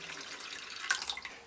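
Rice is rinsed under a running kitchen tap, water splashing and trickling softly in a sink with small sharper splashes, close and fairly quiet, with no voices.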